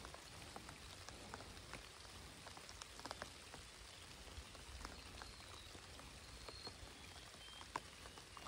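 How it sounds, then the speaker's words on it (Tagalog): Steady rain falling around a small mountain lake during a fishing trip, a faint continuous patter with scattered drops, no voices. "Kaso lumalakas na din yung ulan guys."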